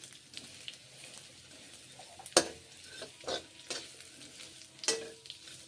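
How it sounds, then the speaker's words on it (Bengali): Vermicelli frying in ghee in a pan over a lowered gas flame, with a soft steady sizzle broken by several sharp scraping stirs and clinks of a utensil against the pan. "গাওয়া ঘি দিয়ে সিমুইগুলোকে ভেজে নিচ্ছি"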